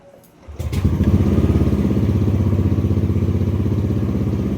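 A Yamaha NMAX 155 V2 scooter engine starts up and then idles steadily, a close, rapid putter with a regular pulsing rhythm.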